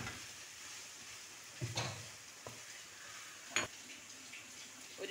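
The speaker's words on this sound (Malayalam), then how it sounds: "എല്ലാം കൂടി ഒന്ന് മിക്സ് ചെയ്യാം." Soya chunk chilli being stirred in a frying pan, a soft continuous sizzle of frying with a few louder scrapes and clinks of the spoon against the pan, close up and without talk.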